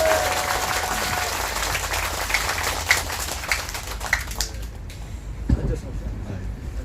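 Audience in a lecture hall clapping to welcome a lecturer, a dense burst of applause that thins and fades into scattered claps and room noise.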